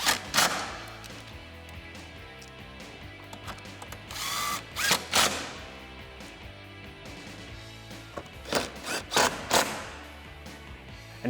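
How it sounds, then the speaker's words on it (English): A power drill drives 8 mm and 10 mm sockets to reinstall factory hardware on a 2018–2020 Ford F-150, with several short whirring bursts spread across the clip and tool handling in between. "And now I'll just use my 8 and 10 millimeter sockets to reinstall the factory hardware."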